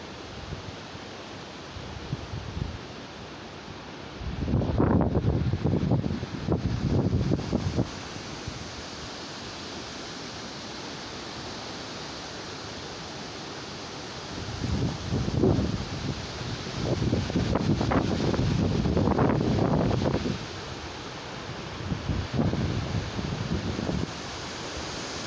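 Strong gusts of Hurricane Dorian in South Carolina roar across the microphone in two long surges separated by a quieter steady rush, loud and close, with no talking.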